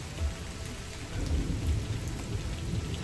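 Steady rain falls in a forest on a trek to the Bhuvaneswari Ammavaru temple, a constant hiss of drops on leaves and ground with a low rumble beneath, no voices.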